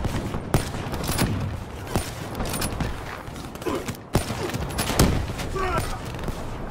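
Bursts of automatic gunfire in Call of Duty Black Ops, sharp repeated shots and volleys crackling irregularly against a busy game background, with someone talking over them.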